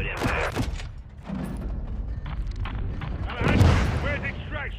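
Gunfire and artillery rounds in a Call of Duty MW2 campaign battle, distant booms and bursts of fire mixed with radio chatter and voices speaking over them.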